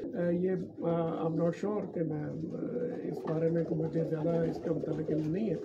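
Lahori taar wala pigeons coo repeatedly nearby, rolling throaty calls in close succession while someone talks over them.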